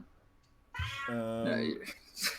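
A cat gives one clear, drawn-out meow near the microphone during a podcast recording, with faint background noise before it and a brief voice or sound just after.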